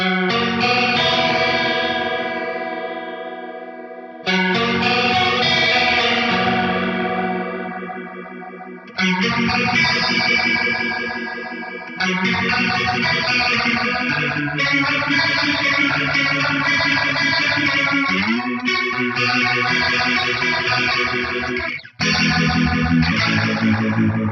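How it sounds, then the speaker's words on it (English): Electric guitar chords ring out through an Eventide TriceraChorus pedal's swirling, wobbling Leslie-style effect, sustained and loud, the modulation growing fuller and livelier in later passages with swell engaged. "when you kick in the swell, you get way more of that kind of faux Leslie style effect"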